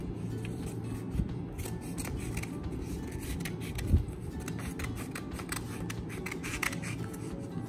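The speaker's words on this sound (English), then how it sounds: "I'm making the rectangle paper a square one. Cut out the excess." Scissors snip through rectangular origami paper to trim it into a square, a steady run of soft close cutting and rustling with a few sharper clicks, and no voices.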